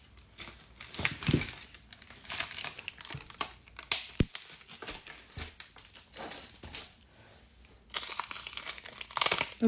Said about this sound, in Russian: Лишнее мы убираем скотчем.